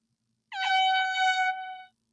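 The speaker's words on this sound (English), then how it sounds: "You asked for an air horn sound effects." A single loud air horn blast, about one and a half seconds long, steady and piercing, alone against silence.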